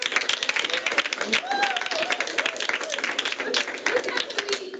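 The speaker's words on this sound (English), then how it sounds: "let's give Juan a round of applause, please." A room full of people at a staff senate meeting claps steadily for several seconds, dense applause with a few voices and cheers mixed in.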